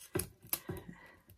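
Scissors snip paper fringe for a paper Flanders poppy center. Three or four crisp, close cuts come in quick succession, each a sharp short snap, and the last ones are softer.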